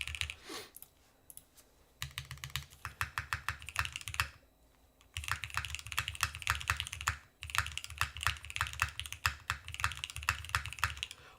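Rapid, clicky typing on a mechanical keyboard fitted with ePBT keycaps, in bursts of keystrokes broken by short pauses, close and clear with no talking.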